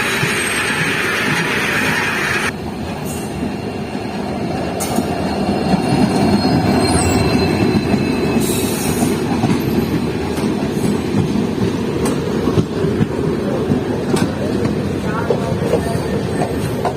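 A passenger train travelling from Guwahati to Jorhat in Assam rolls along the rails with a loud, steady rumble, carriage clatter, and occasional squealing from the wheels throughout.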